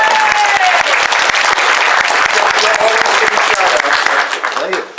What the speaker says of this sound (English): Round of applause for Jim Sorensen.